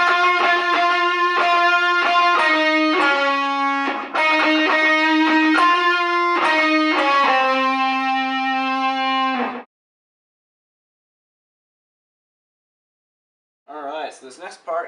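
Distorted electric guitar plays the first section of a solo slowly, held notes ringing loud and close for nearly ten seconds, then silence and a brief bit of speech at the end.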